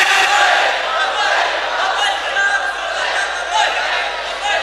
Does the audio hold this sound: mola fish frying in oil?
no